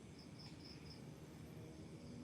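Faint crickets chirp in short, repeated pulses over a low, steady background hum, with no voices.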